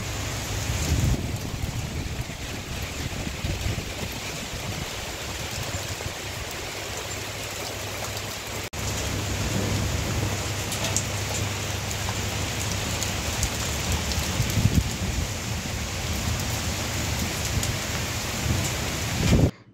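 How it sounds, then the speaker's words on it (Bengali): Heavy rain pours steadily with gusty wind roaring throughout, a dense continuous wash of sound with a low rumble underneath. "দেখছেন কি পরিমাণে বাতাস আর কি পরিমাণে বৃষ্টি।"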